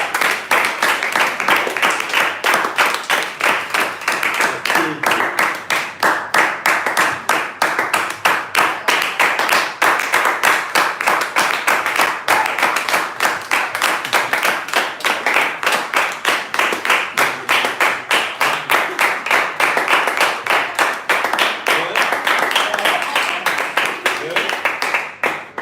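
An audience claps steadily and densely for the whole stretch to welcome a speaker at a leadership academy event, a loud, continuous wash of many hands with no break.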